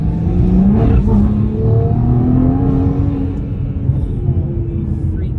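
A turbocharged engine accelerating hard and loud, close by, its steady roar climbing in pitch as the turbo keeps pulling without a break.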